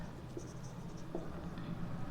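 Faint scratchy strokes of writing on a board in an accounts class, soft and irregular, under a steady low background hum.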